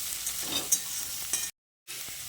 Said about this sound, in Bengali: পেঁয়াজটা দিয়ে ফোড়নের সঙ্গে খুব ভালো করে ভেজে নিতে হবে।